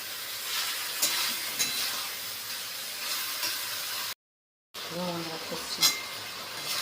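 Chicken meat sautéed in a pot with a steady, close hiss and sizzle, briefly cut off, then resuming with a person talking over it.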